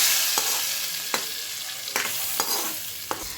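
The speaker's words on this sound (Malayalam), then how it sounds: "ഇതിലേക്ക് നമുക്ക് 1 സ്പൂൺ കടുക് ഇട്ട് കൊടുക്കാം." Mustard seeds sizzle steadily in hot oil in a pot while a mutton curry is being made, a constant bright hiss broken by several sharp pops and clicks of spoon or seeds, close and with no voices.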